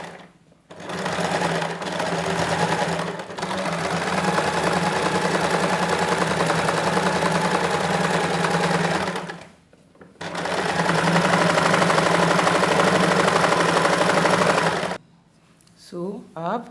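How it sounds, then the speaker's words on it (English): A sewing machine runs in long steady bursts while stitching a trouser pocket, its motor whirring continuously with brief pauses between seams, loud and close, with no talking over it. "take this part to your sewing machine and just sew this place"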